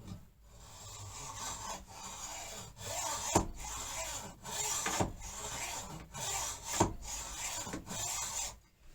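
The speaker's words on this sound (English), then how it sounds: "I'm going to saw it very, very slowly so we do not have too much dust spreading through the air." A knife blank being sawn slowly by hand, giving a steady, rhythmic rasping of back-and-forth strokes, close and moderately loud, with brief pauses between strokes and no speech.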